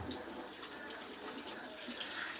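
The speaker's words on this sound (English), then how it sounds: "let me rinse my hands" Water from a running tap splashes steadily over hands being rinsed in a kitchen during home cooking, a continuous close hiss and patter with no break.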